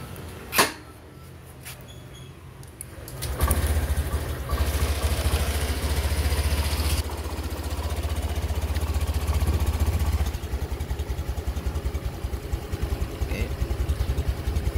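A motorcycle engine starts and then idles steadily and fairly loud, with a low continuous rumble lasting through to the end after a few brief knocks at the start.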